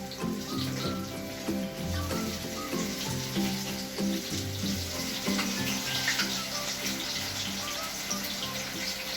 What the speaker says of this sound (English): We are going to deep fry them.